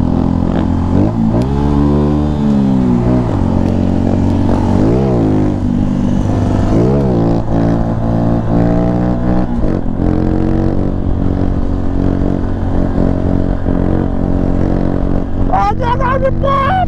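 A Honda Pop 110i motorcycle engine revs hard and close during a wheelie, its buzzing pitch rising and falling in repeated surges over a steady roar, with a voice speaking over it near the end.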